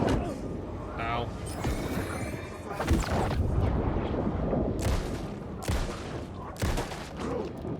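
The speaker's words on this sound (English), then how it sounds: "Is that shotgun? Yeah, it's a shotgun." Shotgun blasts in Alan Wake 2, several heavy booming shots spaced a second or so apart, loud and close, with people talking between and over them.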